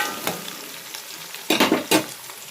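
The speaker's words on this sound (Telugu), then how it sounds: "నేను నైట్కి వచ్చేసి ఆలు ఫ్రై చేస్తున్నాను" Potatoes for aloo fry sizzle in a pan, a steady low frying hiss broken by a few louder stirring scrapes near the end, with no voices.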